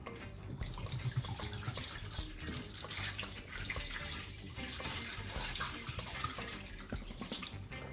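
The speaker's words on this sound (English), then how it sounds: "I'm gonna put a little bit of hot water" Hot water runs steadily from a tap into a sink for cleaning with vinegar, a continuous close splashing stream that carries on without a break.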